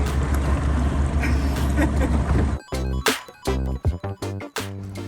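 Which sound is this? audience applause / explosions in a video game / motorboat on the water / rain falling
motorboat on the water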